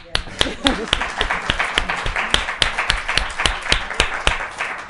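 One person claps hands in quick, even succession, a string of sharp nearby claps over someone talking.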